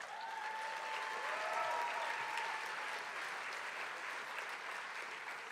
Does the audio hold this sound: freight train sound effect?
no